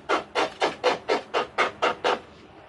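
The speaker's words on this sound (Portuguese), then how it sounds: "com uma lixa de unha," A nail file sanding excess paper off a basket made from a plastic jug: nine even, rhythmic rasping strokes in quick succession, close and clear with no talking.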